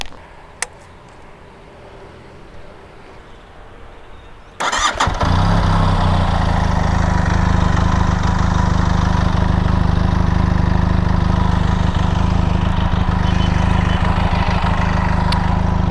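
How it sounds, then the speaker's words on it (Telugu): A 2021 BS6 Benelli TRK 502X motorcycle sits quiet for a few seconds, then fires up abruptly and settles into a loud, steady idle from its exhaust, close by and with no talking. "let's head towards the bike and let you know how it feels like starting from the exhaust note"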